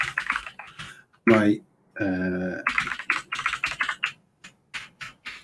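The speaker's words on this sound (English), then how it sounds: "I can't speak and type the password." Keys tapped on a computer keyboard while a password is entered, quick irregular clicks scattered between stretches of someone talking close by.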